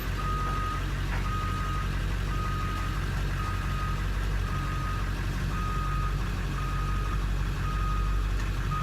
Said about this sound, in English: I got mixed feelings about these reverse alarms.